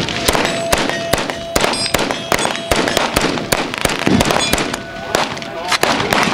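A lightweight AK-variant rifle fires a rapid string of sharp, loud shots at a steady rhythm of about two per second, each crack ringing briefly, with faint voices in the background.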